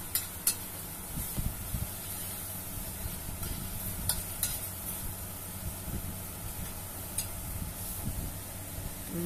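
Eggplant and spare ribs are mixed in a frying pan, giving a steady sizzle with frequent sharp scrapes and clinks from the spatula against the pan, moderately loud throughout with no one speaking.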